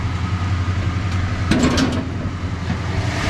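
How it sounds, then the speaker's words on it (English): A 1968 Chrysler Newport fitted with a new aluminum radiator idles close by, with its temperature up near 180. A steady low rumble runs throughout, broken briefly midway by a rattling clatter. "We're sitting here idling. It's pushed up to about 180, sitting here idling."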